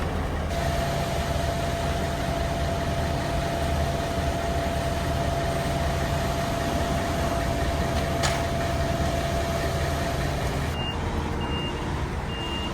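A concrete truck's diesel engine rumbles steadily and close by at a site where a new yard is being poured. Its loud drone runs the whole time, with a tonal whine and reversing beeps near the end.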